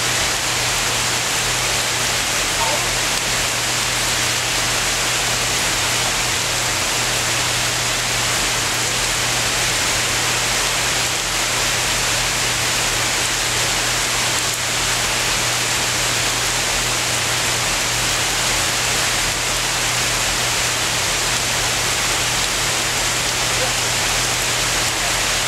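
Rain falls steadily with a constant dense hiss and no breaks. A faint low hum sits underneath, and no voices stand out.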